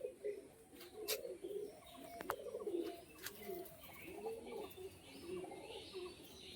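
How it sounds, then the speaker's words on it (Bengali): Female pigeons at a sale coo in repeated soft, low rolling phrases, with scattered chirps and a few sharp clicks throughout; the birds are fairly near and no one talks. "চারটে মাদি পায়রা রয়েছে এইখানে"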